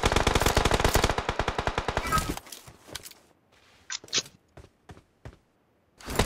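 Video-game machine gun fire rattles in a loud rapid burst for about two seconds, then gives way to scattered single shots and clicks.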